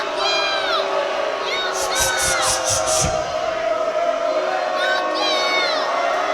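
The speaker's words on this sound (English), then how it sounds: "the crowd not happy here with James Tapia." A wrestling show crowd reacts unhappily, a steady roar of many voices with shouts and jeers rising over it, while a voice carries on through the noise.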